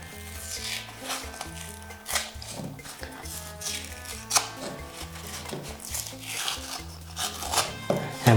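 Excess plaster is scraped and rubbed away from a ceiling patch piece, with soft repeated rasping strokes, fairly faint, under steady background music.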